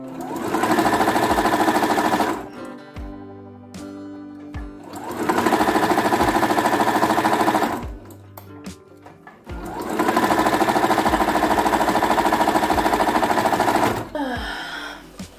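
A sewing machine stitches a heavy seam on a fabric grocery bag dispenser in three long runs, each a loud steady buzzing whir broken by short pauses with faint handling clicks.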